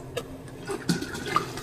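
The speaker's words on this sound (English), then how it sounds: "I'm gonna put a little water in the kettle" Tap water splashes and trickles into a 5-gallon stainless brew kettle during a homebrew partial-mash hefeweizen session. The fill is quiet and close, with a few sharper splashes over a steady low pour and no talk.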